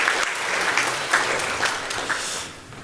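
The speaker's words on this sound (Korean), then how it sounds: "우리 임태규 장로님께 위로와 격려의 박수 한번 보내주시면 고맙겠습니다" A church congregation applauding during a Sunday service, a dense patter of many hands clapping at once, steady and fairly loud across the clip before easing off slightly at the end.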